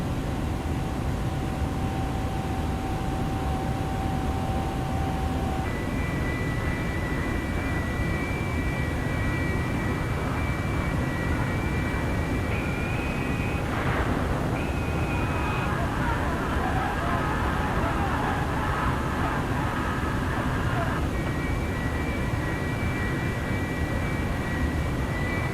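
Jet engines of an A310-300 airliner in a flight simulator game spool up to higher thrust, a steady loud broadband roar with whining tones that rise and shift midway, running continuously throughout.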